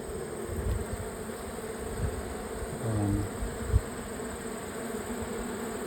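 Honeybees buzz around the hives in a bee yard as a continuous hum, with louder passes from single bees flying close to the microphone.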